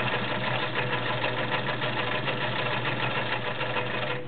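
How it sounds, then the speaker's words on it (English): A White Model 734 convertible flat-bed/free-arm sewing machine stitches through three layers of garment leather with a size 16 needle, giving a steady, close, loud mechanical whir and rapid rhythmic clatter that runs without a break. "I'm sewing. This is 3 layers of garment leather. I'm using a size 16 needle."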